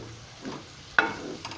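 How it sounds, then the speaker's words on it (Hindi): Chicken omelette cooking on low-medium heat while a spoon stirs it in a pan, a soft sizzle broken by one sharp scrape of the spoon and a lighter one after it. "अभी मैं साथ चम्मच चलाता जाऊँगा ताकि नीचे ना लगेंगे"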